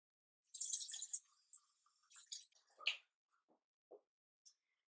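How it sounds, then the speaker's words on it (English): Tap water pours into a gallon glass jar for making kombucha in two short splashing bursts, followed by a few faint isolated drips in an otherwise quiet room. "I'm just going to go ahead and add in some more water. So I'm just going to use some tap water."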